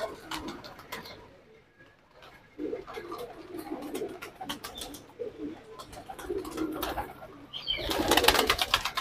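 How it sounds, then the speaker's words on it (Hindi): Pigeons at a breeding setup coo repeatedly, soft throaty calls overlapping near the microphone, with a louder flurry of sound toward the end. "देखिए एक गुटक रहा है"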